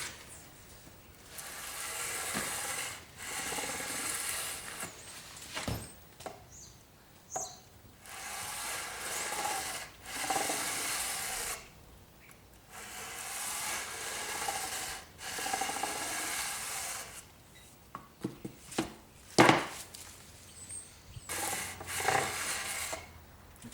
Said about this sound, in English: I'm going to hit it with a radius block to finish it off